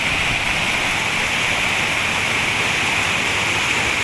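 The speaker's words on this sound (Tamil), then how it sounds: "தண்ணி எப்படி ஊற்றுக்கிட்டு பாருங்க" Water pouring and flowing at the Amaravathi riverbank in Tamil Nadu, a constant, loud rushing roar like a small cascade, even and unbroken throughout with no voices over it.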